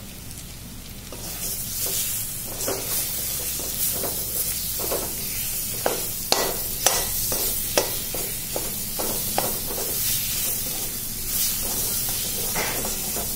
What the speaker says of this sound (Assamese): তেনেকৈ অকণমান ভাজি লওক